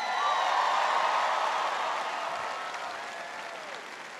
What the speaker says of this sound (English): Give Nigel a big round of applause.